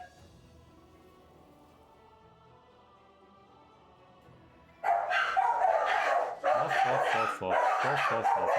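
A dog in the fantasy role-playing game Pathfinder: Wrath of the Righteous barks in a series of loud, close yaps and woofs that start suddenly after a quiet stretch of soft background music.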